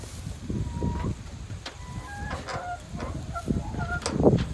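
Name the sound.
chickens in a homestead coop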